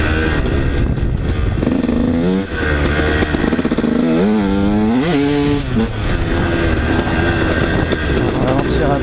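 A 150 SX dirt bike rides over slippery silty ground close by, its engine revving up and down in repeated rising and falling pitches amid clattering and wind noise.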